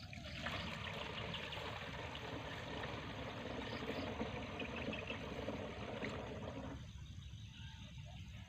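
Water poured steadily into a sprayer tank before insecticide is added, a continuous close trickle and splash lasting about seven seconds, then stopping and leaving quieter outdoor background.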